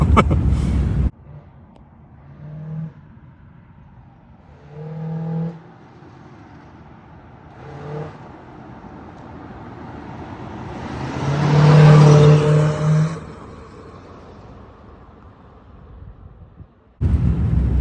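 A 1975 Chevrolet Monza with a 350 V8 drives past, its engine note swelling to a loud peak near the middle and then fading, with a sharp burst at the start and end.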